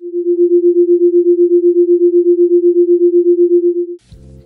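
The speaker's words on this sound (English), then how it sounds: "Because the tone in our left ear is 8 Hz higher than the one in our right, we will hear a frequency of 8 Hz when the two are played together." Binaural beat tones with an 8 Hz gap between the left and right ears form a clear, steady low pure tone that pulses rapidly and evenly for about four seconds, then stops abruptly into a brief low rumble.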